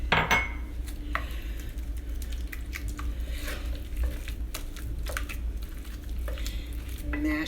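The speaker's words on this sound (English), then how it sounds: "Mashing it in here." Egg being mashed and stirred into cream puff choux dough in a pot, with soft repeated squishing and scraping of a utensil against the pan, steady and close with no talk.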